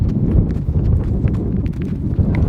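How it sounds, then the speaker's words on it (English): Cows walking into a barn, their hooves clopping in a busy, uneven patter that is close and fairly loud, with wind noise underneath. "Here come these cows, they're excited."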